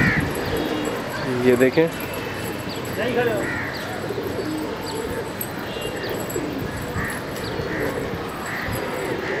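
Breeding pigeons in a loft coo softly and intermittently against a dense background hum, with someone speaking throughout and a brief burst of louder fluttering sounds near the start.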